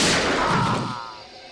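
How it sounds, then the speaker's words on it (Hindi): A single loud gunshot rings out in a Hindi TV crime drama, its sharp blast tailing off into a decaying echo. "चली चली चली गोली चली"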